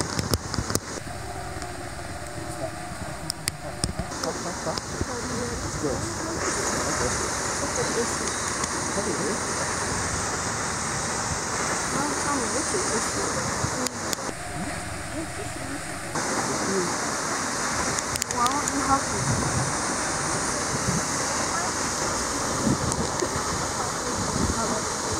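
Waterfall at Kee Beach on a hike, a steady broadband rush of falling water that fills the whole clip, with ocean surf nearby and people talking briefly over it.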